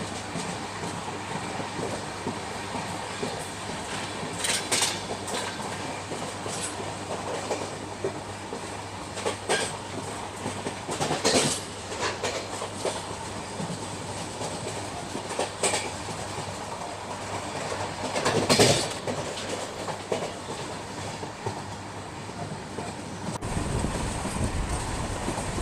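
A train rolls past a small railway station in the middle of the Thar desert, a steady rumble with faint clickety-clack from the wheels and a few louder bursts, heard with no talking.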